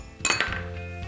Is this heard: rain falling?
no